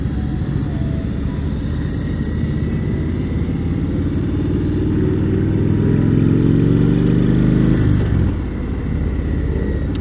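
A 2017 Indian Chief Dark Horse motorcycle engine accelerating, a loud, steady low rumble whose pitch climbs smoothly for several seconds and then drops off near the end, no talk.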